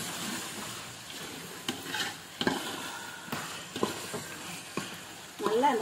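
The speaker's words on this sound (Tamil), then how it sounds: "இந்த கத்திரிக்காவை இந்த எண்ணெயிலே நல்லா வந்து வதக்கணும்." Brinjal sautéing in hot oil for a Tamil anchovy fish kuzhambu, soft sizzling under spoon stirring and scraping in the pan, close and moderately quiet.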